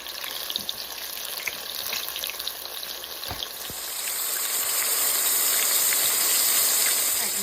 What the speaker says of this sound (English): we're gonna cook them until they get light golden brown on each side